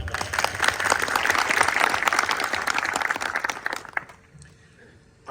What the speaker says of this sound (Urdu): میں چاہوں گا کہ آپ پرجوش انداز میں تالیاں بجائیں ذرا